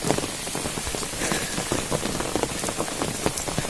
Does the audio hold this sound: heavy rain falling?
yes